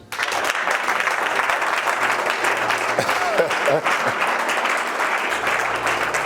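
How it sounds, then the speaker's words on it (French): A church congregation at a Sunday worship service applauds and cheers for Jesus in steady, loud, sustained clapping that fills the room, with a voice speaking over it. "Est-ce que tu peux acclamer Jésus?"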